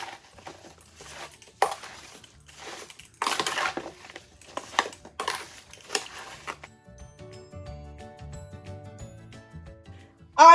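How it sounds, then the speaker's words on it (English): A spoon stirs apple slices with ground allspice, cardamom and salt in a bowl, producing wet crunching, clinking strokes in short bursts for about seven seconds, then near quiet with faint speech at the end. "give it a quick stir until everything's well combined"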